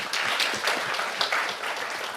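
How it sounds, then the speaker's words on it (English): A brief round of audience applause at a public-private partnership forum, brisk steady clapping from a crowd at moderate loudness. "Join me to give them a big round of applause."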